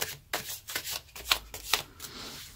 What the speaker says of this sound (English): it's just shuffling on the screen